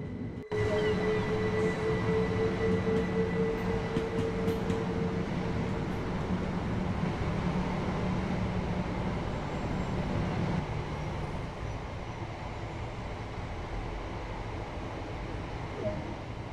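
A video game train on the Brighton to Eastbourne and Seaford line rumbles steadily with a low mechanical drone and a sustained tonal hum, continuous and fairly close, with no talking.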